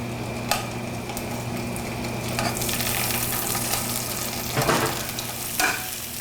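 Shallots fry in hot oil in a small pan, giving a steady close sizzle with brief crackling bursts and a few sharp pops along the way.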